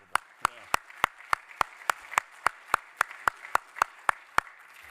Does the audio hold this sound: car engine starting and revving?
no